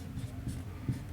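A pen scratches across paper in short, quick strokes during a worked math problem, close and fairly soft, with a few brief louder scrapes.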